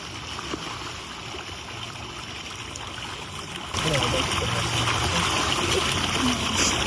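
Water splashing at a pool during a water aerobics session, a steady wash of splashes that grows louder and closer partway through, with voices talking over it.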